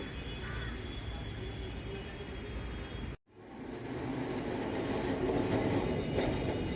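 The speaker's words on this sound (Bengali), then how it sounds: "আজকে এই ট্রামেই যাব গড়িয়াহাট ডিপো পর্যন্ত" A Kolkata tram on route 25 toward the Gariahat depot rumbles steadily along its rails, close and continuous, with a sudden brief dropout midway before the running noise returns slightly louder.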